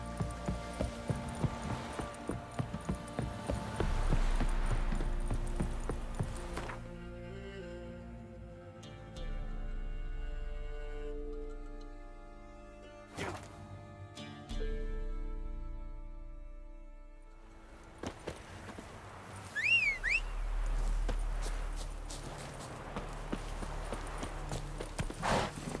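The horse Roach walks and trots in The Witcher 3, steady hoof clip-clops on ground sounding close over quiet game ambience, pausing and resuming across the stretch with occasional faint background sounds.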